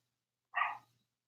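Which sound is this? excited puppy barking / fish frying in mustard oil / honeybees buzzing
excited puppy barking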